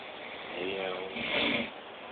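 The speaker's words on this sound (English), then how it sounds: "And I can't go to sleep at all because of the snoring." A person snoring in the small hours, one long drawn rasping breath that swells and fades, close and fairly loud against quiet.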